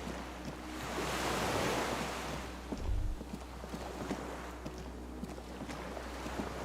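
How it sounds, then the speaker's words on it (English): Waves lap and slosh around a small skiff moored at a dock in Disco Elysium, a steady wash of water under wind noise, with a brief low bump partway through and no talking. "The skiff is swaying on the waves"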